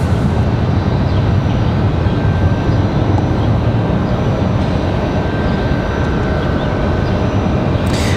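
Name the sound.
American Airlines Boeing 737 jet at the runway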